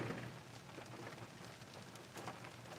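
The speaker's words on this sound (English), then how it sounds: "Look at this rain." Rain falls outside a parked car, a quiet, steady patter with scattered drops tapping on the vehicle and no talking.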